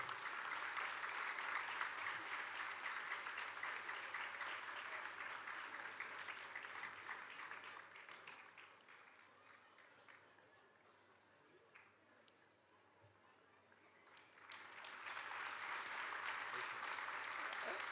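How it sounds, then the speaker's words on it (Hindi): An audience at a charitable trust's project presentation gives sustained applause for a trustee. The dense clapping dips softer midway, then swells loud again toward the end. "तो एक बार प्रवीण के लिए भी जोरदार तालियां होनी चाहिए।"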